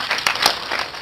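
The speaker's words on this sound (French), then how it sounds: "Applaudissez pour vous" Applause from an audience at a storytelling event: a dense, steady wash of many hands clapping, fairly loud and close, with a couple of sharper claps standing out over about a second.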